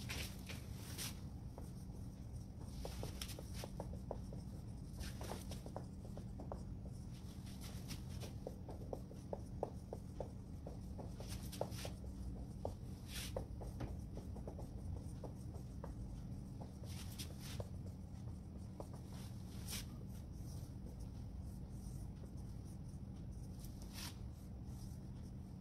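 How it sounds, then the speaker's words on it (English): Marker or chalk writing on a board in a classroom setting: faint scratchy strokes in short irregular bursts over a steady room hum, with no speech. "So let's write that down."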